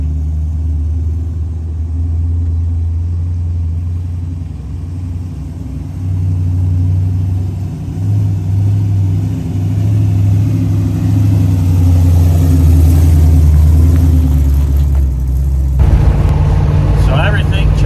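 A hot rod Chevrolet Impala drives down the road, its engine giving a steady, loud low rumble throughout, with a brief shift in tone near the end.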